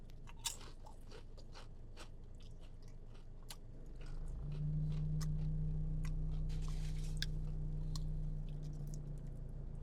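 Brittle Taco Bell tortilla chips being bitten and chewed up close, sharp crunches and crackles scattered throughout, with a steady low background hum coming in partway through.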